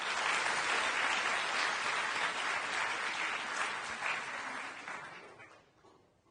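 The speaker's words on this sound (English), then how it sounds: "Give her a round of applause, Associate Professor Anne Tiedemann." A science forum audience in Sydney gives a sustained round of applause, steady dense clapping that fades out over the final second.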